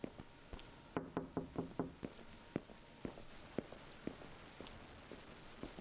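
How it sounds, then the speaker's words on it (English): Knocking on a door in a horror video game: bursts of several sharp, hollow raps in quick runs, then scattered single knocks and taps, with no talk over them. "Who's knocking on my door?"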